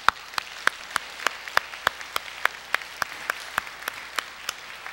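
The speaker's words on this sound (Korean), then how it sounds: "우리 하나님께 우리 감사의 박수 올려드립시다" Church congregation clapping in thanks during a Korean service, a steady, evenly spaced rhythm of sharp claps, roughly three per second, ringing in a reverberant hall with no talk over it.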